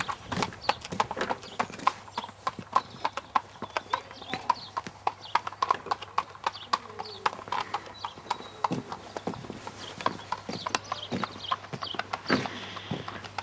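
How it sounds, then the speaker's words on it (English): A horse walks away at a slow, steady pace, its hooves clip-clopping in an irregular rhythm of sharp knocks that grow slightly fainter, with faint background sounds. "Horse just wandered off."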